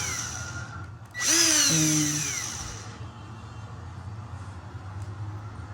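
A cordless battery drill fitted with a car polishing kit adapter spins up sharply with a rising whine, runs briefly at high pitch, then winds down into a low steady hum nearby.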